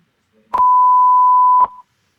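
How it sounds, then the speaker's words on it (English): A continuity tester on a Zanussi condenser dryer element gives one steady, clear electronic beep lasting about a second, loud and close with nothing else heard. "Hear the beep there, so this should beep."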